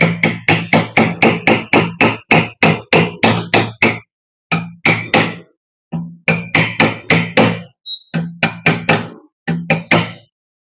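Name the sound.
hammer tapping bent water pump impeller straight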